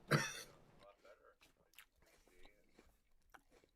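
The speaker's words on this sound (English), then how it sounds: "Sorry, I'm munching." A man munches food close to the microphone, with soft chewing and crunching sounds scattered between a loud initial throat noise and quiet mouth sounds.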